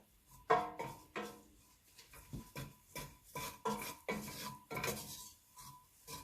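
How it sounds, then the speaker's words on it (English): A spoon stirs pineapple curry with onions in a pan, producing steady, rhythmic scraping strokes roughly every half second, soft and close. "you'll notice I'm stirring all the time"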